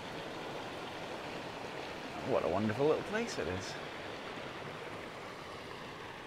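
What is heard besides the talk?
River Whiteadder flowing water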